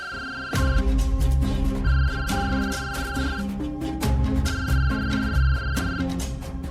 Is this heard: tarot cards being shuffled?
no